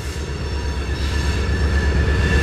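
A CSX eastbound local freight train reverses through Marion, Ohio, producing a steady low rumble of rolling wagons with faint wheel squeal, close and continuous throughout.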